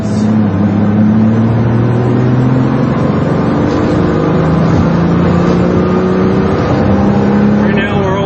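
A Ferrari 400i with a five-speed manual drives on the road, its engine droning loud and steady as revs climb and fall through the gear shifts.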